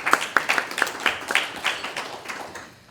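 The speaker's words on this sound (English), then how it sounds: "round of applause for them" A small audience gives a short round of applause at an academic panel, with light scattered claps fading out after a few seconds.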